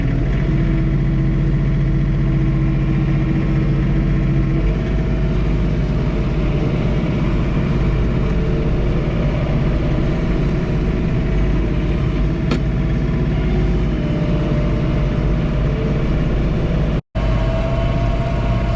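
A John Deere 3 Series compact tractor engine idles steadily and continuously in snowy conditions, a low rumbling drone close by with no talking, briefly cut out near the end.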